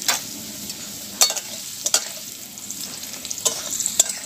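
Potatoes fry in oil in a pan with a soft, close sizzle and several sharp scraping stirs, with no voices.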